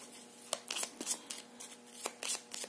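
Playing cards shuffled for a Pasyans relationship reading: quick riffling flutters and soft snaps come in irregular bursts, close and crisp, with no one talking.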